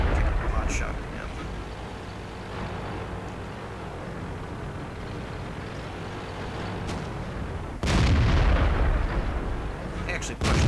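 Tank cannon fire booms within a tank video game, with a heavy blast at around eight seconds and fainter rumbling shots earlier, under a player's commentary.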